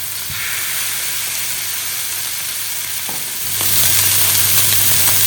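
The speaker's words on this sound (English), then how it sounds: "As soon as you start to see it smoking, as soon as your pan is hot enough, we're just going to pop the steak straight in there." A steak sears in a smoking-hot pan, giving a loud, continuous hissing sizzle that swells noticeably louder and brighter partway through, with a low hum underneath.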